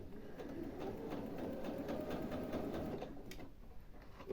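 A sewing machine sewing fabric with 100% polyester thread, whirring steadily and evenly at close range for several seconds before easing slightly near the end, with no speech.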